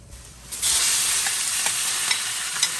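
Portobello mushrooms stir-fry in a hot pan, crisping, with a loud steady sizzle that starts abruptly and carries a few scraping stir strokes over its broad hiss, with no voices.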